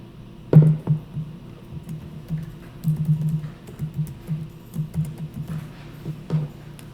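Typing on a computer keyboard, a steady run of light clicking keystrokes in irregular bursts over several seconds, close and moderately loud with no voice.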